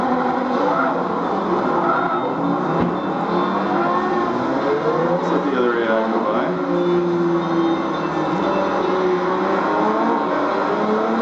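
Race car engines at Le Mans in the video game Forza Motorsport 3, a loud continuous engine drone with rising and falling revs throughout, steady and unbroken, with possible faint talk beneath.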